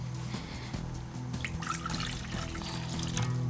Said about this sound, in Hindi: 1 गिलास मैंने यहाँ पानी शामिल किया है।